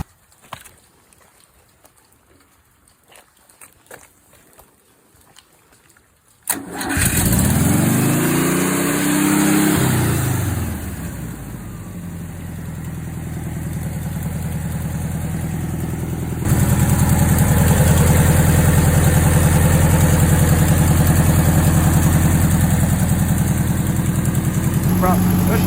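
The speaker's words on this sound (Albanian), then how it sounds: "Është një motor që do shkojë edhe 500 vjetë të tjera këtu." An old car engine, said to need no battery, starts abruptly after quiet handling noises, then settles into a steady, loud idle that grows slightly louder midway and runs on continuously, with a person speaking over it.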